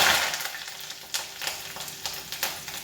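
Dried red chili, green chili and curry leaves sizzle and crackle in hot oil for a pickle, a steady frying hiss broken by sharp pops and spits, loudest at the start.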